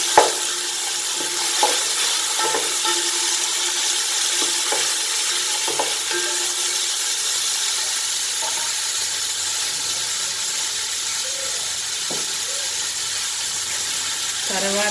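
Onions and green chillies frying in a pan, a loud continuous close-up sizzle and hiss, broken now and then by scraping and clinks of a stirring spoon.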